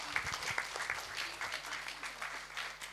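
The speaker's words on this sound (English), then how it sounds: "So big round of applause to all of you." Audience applause at the closing ceremony of the Auroville Literature Festival, a steady wash of clapping from a seated crowd, moderately loud and continuous with some nearer individual claps.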